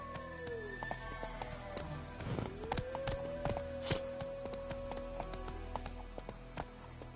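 Roach, a horse in The Witcher 3, gallops with a steady, rapid clip-clop of hooves over constant game ambience, with a long whinny-like tone rising partway through.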